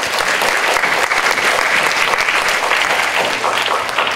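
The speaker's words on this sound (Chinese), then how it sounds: "让我们用最热烈的掌声欢迎陈文茜陈老师以及 黄颖如" Audience applause welcoming guests at a university lecture on artificial intelligence, a dense, steady wash of many hands clapping throughout, loud and continuous with no one speaking over it.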